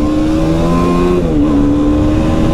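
A motorbike rides along a road, its engine humming loud and steady with a slight pitch dip midway, close to the microphone and without talk.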